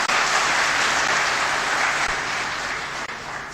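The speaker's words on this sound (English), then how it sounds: "Please give Raheel Mohammed a very big round of applause." Sustained applause from a conference audience for a popular speaker, a steady dense wash of clapping that stays loud throughout and eases off only slightly near the end.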